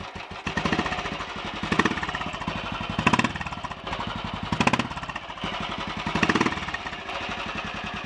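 A Royal Enfield 500 single-cylinder motorcycle engine with retarded inlet cam timing idles steadily and close up, a loud, even low tick-over that swells slightly every second or so, with no talk over it.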